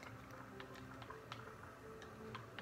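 A game controller clicks faintly while gaming, with a quiet run of irregular small ticks and taps over a low steady background hum, no talk.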